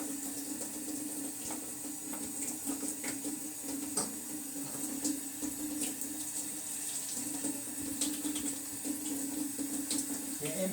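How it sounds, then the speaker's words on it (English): Running tap water splashes steadily into a kitchen sink as hands are washed under it, a faint, continuous hiss and patter that lasts throughout. "before you start cooking is to wash your hands"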